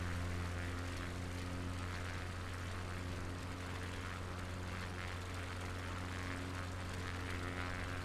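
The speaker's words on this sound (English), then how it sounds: "without further ado, let's get this plane down." A propeller aircraft engine hums at a constant level in a flight simulator game as the plane comes in to land at a small airport on the English coast, a steady drone throughout.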